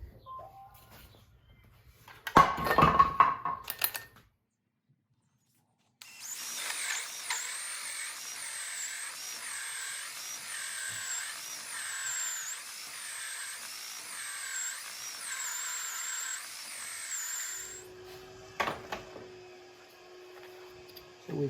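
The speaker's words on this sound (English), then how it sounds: "I'm going to drill it from one side until the drill comes out the other side" A power drill with a hole saw whines steadily for several seconds with a pulsing, grinding tone as it bores through wood, between short clicks and handling noises.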